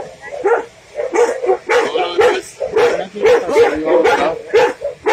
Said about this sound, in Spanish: Este es el refugio donde en días anteriores se había traído dos perritas, Violeta y Dulce